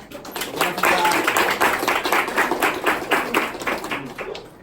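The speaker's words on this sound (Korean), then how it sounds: "오늘 우리 그 안병조 선배 큰 박수로 환영할게요." A university lecture audience gives a big round of applause to welcome a returning alumnus speaker, crisp dense clapping that swells quickly and holds steady before tapering off near the end.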